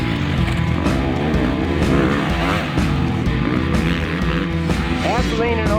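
A motocross bike braking and cornering on a dirt track, a loud continuous engine drone with shifting pitch as it slows and leans through turns, heard under someone talking.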